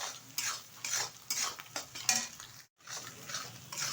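Beaten egg being fried and stirred into a scrambled, bhujia-style omelette in a pan: a soft sizzle under repeated scraping strokes of a utensil against the metal, with one brief pause, close and fairly quiet.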